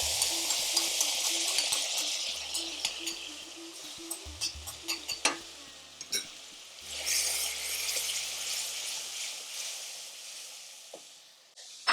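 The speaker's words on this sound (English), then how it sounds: "Well, let's put in this tomato paste." Tomato paste being stirred into frying spices for a tikka madras curry, with a steady sizzle throughout and scraping stirring strokes plus a few knocks of the spoon against the pan, close and fairly quiet.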